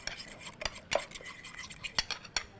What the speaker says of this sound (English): The eggs is so easy to mix with the spaghetti.